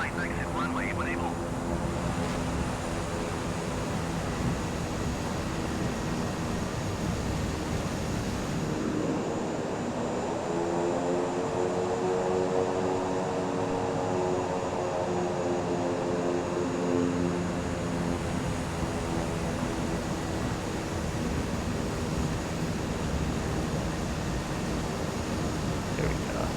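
A Southwest airliner in Microsoft Flight Simulator taxiing off the runway after landing, with a steady engine drone and a whine that rises and falls, and a person talking over it.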